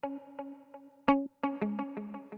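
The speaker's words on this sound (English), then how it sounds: "adding the echo delay plugin here, set to ping pong, so we're hearing the sound bounce from left to right" Distorted synth tones run through a ping-pong echo delay, short buzzy notes repeating and bouncing in a steady rhythmic pattern, with some sustained chords near the end, dry and upfront with no voices.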